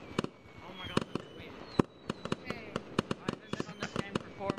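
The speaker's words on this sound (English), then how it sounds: "Oh, the fireworks are shooting." Fireworks crack and pop in a video game, a dozen or so sharp bursts in an uneven rapid series over faint background chatter and crackle, fairly near.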